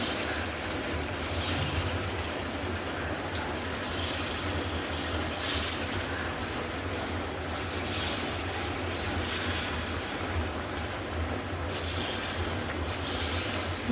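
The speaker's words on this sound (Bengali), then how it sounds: "এবার বড়া ভাজা হচ্ছে আস্তে আস্তে তেলের মধ্যে" Bora fritters fry slowly in oil with a faint, continuous hiss and scattered small crackles and pops across the whole stretch, with no talking.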